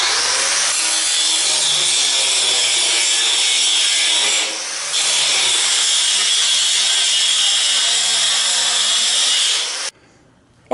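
Saw cutting legs for a shop table, one long continuous loud grinding cut with a brief dip midway, then an abrupt stop near the end.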